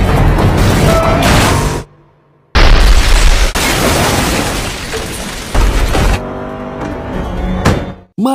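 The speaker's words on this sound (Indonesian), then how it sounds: "Malang pengejaran John harus terhenti setelah mobilnya mengalami kecelakaan" Film car crash ending a chase, loud bursts of roaring impact noise broken by abrupt cuts to near silence, with heavy booms and a final sharp hit, dense and close.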